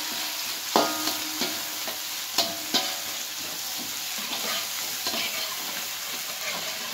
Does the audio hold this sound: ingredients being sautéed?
yes